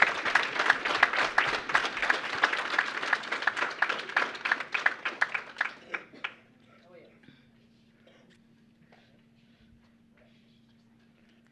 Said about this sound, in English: Please give a warm round of applause for Elliot.